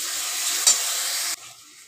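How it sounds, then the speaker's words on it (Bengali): Spice masala frying and being stirred in a pan, cooked down until the oil separates, for a Bengali prawn malai curry; a steady close sizzle with a brief clink, then quieter frying for the last moment. "মশলাটাকে আমি ভালো করে কষিয়ে নিচ্ছি, যতক্ষণ না মশলা থেকে তেলটা ছেড়ে যায়।"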